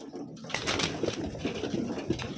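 Taiwan pigeons coo softly in a loft, with low, rounded calls repeating close by over faint rustling and background noise, with no voices heard.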